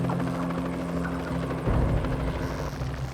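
A helicopter hovers close overhead while lifting a repair crew onto high-voltage power pylons in South Africa, with a loud, steady rotor drone and engine buzz that swells slightly partway through, no voices.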